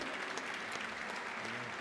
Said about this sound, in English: please give Mr. Sakamoto and José Luis a big round of applause